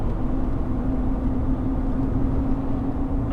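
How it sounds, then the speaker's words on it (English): Steady low tire hum from a Chevrolet Silverado Trail Boss truck driving at speed, a continuous droning rumble heard from inside the cab with no voices over it. "It sounds like a humming sound coming from the tires."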